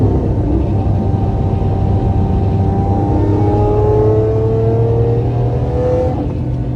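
A 2012 Lamborghini Aventador LP-700 accelerates from inside the cabin, a deep steady rumble with engine tones gradually rising in pitch before easing off near the end, no talking.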